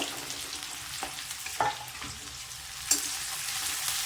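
Garlic and ginger frying in a pan for momo filling, a steady soft sizzle with occasional stirring scrapes and clinks, close and alone without talk.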